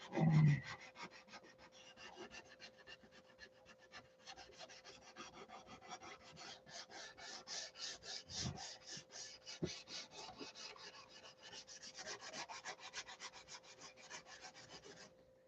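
Hand sanding of a Tucker XL aircraft wing with 80 grit sandpaper: a steady, close rasping scrub in fast repeated strokes that continues throughout, moderately quiet over a faint constant hum, with no talking.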